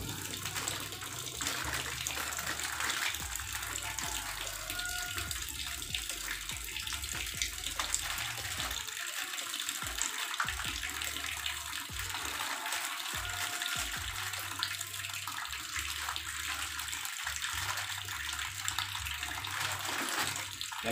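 Water runs from a tap for clothes washing in a weak, thin stream, a steady close splashing and trickling that continues without a break and with no talk.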